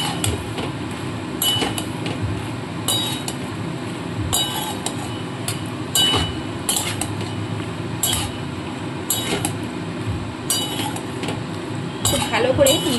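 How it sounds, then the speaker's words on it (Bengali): Macaroni pasta being stirred and mixed in a pan, with repeated metallic clinks and scrapes of a utensil against the pan at a close, fairly loud level over a constant background hum. "তো দেখুন, সমস্ত পাস্তাগুলোকে আমি দিয়ে দিলাম। দিয়ে ভালো করে মিশিয়ে নেবো আগে।"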